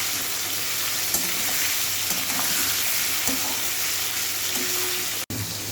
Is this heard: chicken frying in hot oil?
yes